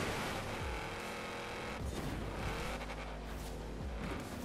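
Jeep engine revving hard in Forza Horizon 4 racing, close and loud and continuous, with tire noise and scraping thuds of collisions against other cars over roughly four seconds.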